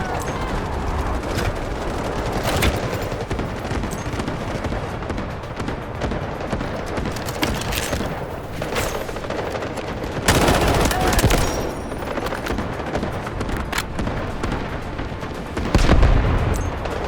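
Gunfire on the second floor of a building in Delta Force, with dense, continuous automatic bursts and heavy booming impacts under steady battle noise and occasional voices.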